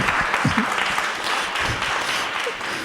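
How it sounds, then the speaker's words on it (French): Audience applause at a conference panel session, a steady patter of many hands clapping in a hall, moderately loud and even throughout, with a few faint vocal sounds mixed in. "applaudissez d'abord."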